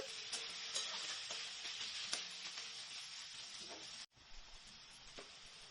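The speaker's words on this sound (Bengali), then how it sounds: "তো আদা রসুনটা একটু ভালো করে কষিয়ে নিচ্ছি" Ginger, garlic and a medium tomato frying in a pan for a Bengali-style chicken curry, a steady close sizzle with light stirring scrapes; the sizzle briefly cuts out near the end before resuming.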